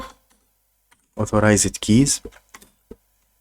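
Scattered computer keyboard clicks tap out Linux commands in a root terminal session on a VPS, sparse and light at the edges, while a person talks over the middle.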